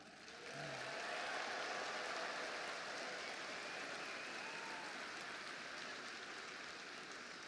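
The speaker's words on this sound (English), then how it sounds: "Let's give all these remarkable students a round of applause." Sustained applause from a large audience at a national students' skills competition opening ceremony, a steady dense wash of clapping that rises within the first second and holds without pause.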